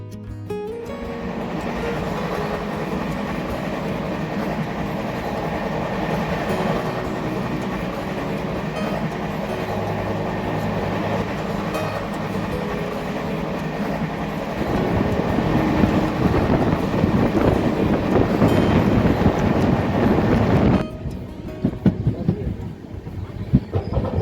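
A steady, loud rumble of an express train running on the Harangul to Pune route, wheels on rails droning close by, growing rougher and louder toward the end before the noise drops briefly.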